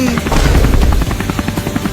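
Cartoon helicopter sound effect with a loud, rapid chopping rotor beat that throbs steadily for about two seconds, close and continuous.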